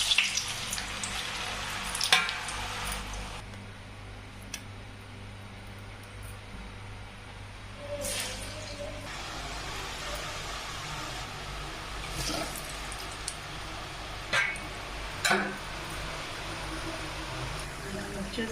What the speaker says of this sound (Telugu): చూసారా, వేగుతున్నాయి బాగా.